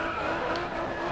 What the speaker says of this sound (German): Während wir uns hier um die Kurve driften.